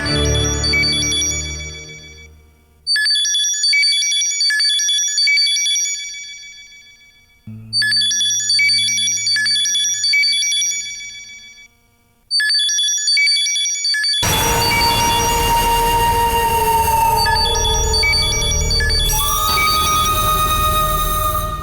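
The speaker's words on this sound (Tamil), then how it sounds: "அப்பாவோட போன் அடிக்குது" A mobile phone rings with a bright, repeating electronic chime melody that plays in loud bursts separated by short gaps. A denser, fuller musical passage takes over near the end.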